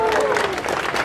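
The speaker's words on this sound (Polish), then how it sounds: "Wielkie brawa!" Applause and cheering from a crowd at a rally against ACTA 2 internet censorship, greeting a young speaker as he steps onto the stage. The clapping is dense and loud, with a whistle or voice rising briefly above it.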